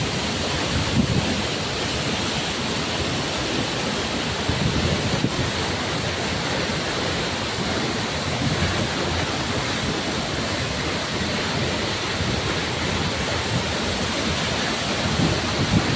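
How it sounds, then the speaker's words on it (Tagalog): Steady roaring rush of Lumondo Falls, a waterfall in Alegria, a continuous broadband wash of falling water at even volume throughout with no voices. "ngayon lamang po ako nakakakita na ganitong klaseng falls na talagang napakaganda"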